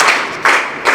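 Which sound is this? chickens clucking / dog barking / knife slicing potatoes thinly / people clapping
people clapping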